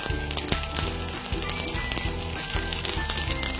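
Breadcrumbed tikki pieces frying on a hot tawa, a steady loud sizzle with crackling spatters running throughout, close up and uninterrupted.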